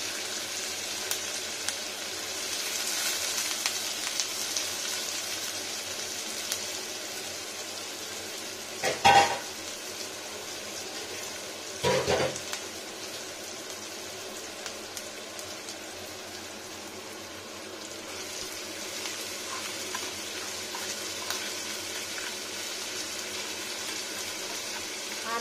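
Onion, ginger and garlic fry in a pan, giving a steady close sizzle throughout with a couple of brief louder clatters of a utensil against the pan.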